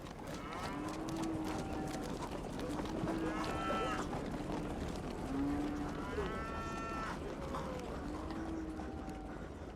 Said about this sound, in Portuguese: homens a cavalo, tocando a boiada